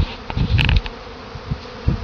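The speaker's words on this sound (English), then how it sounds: "There's a lot of bees flying around" Honey bees from a swarm clustering in a tree buzzing around, with individual bees zipping close past in short bursts over a low steady drone, outdoors with no talking.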